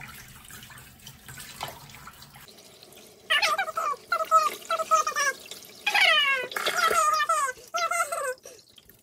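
A cat whining during a bath in a sink, with running water at the start, then repeated loud, drawn-out meows and cries close by, one after another.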